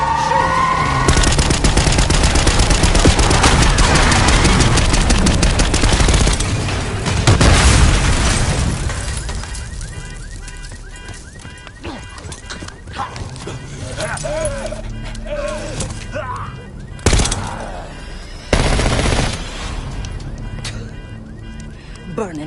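Call of Duty Black Ops 6 gunfire and booming explosions during a limo chase down a street, loud and dense at first, then thinning to scattered shots and thuds under shouted in-game dialogue.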